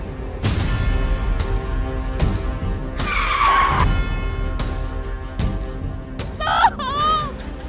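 A car revving hard with repeated loud tire squeals and skids, the screech sweeping up and down in pitch, close and intense, ending in a sharp, wavering squeal.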